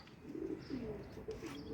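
Brief burst of pigeons cooing, a couple of soft throaty calls close together over faint background noise.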